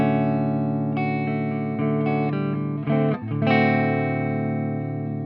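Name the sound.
electric guitar single notes through dry EVH 5150 amp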